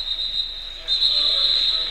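A referee's whistle blows at a roller derby bout, one long shrill tone broken briefly and then sounding again, loud over crowd noise and commentary.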